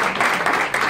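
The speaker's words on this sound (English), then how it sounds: "Clap for him, please." An audience claps for a visiting guest from St. Petersburg, a short burst of dense, even clapping lasting under a second.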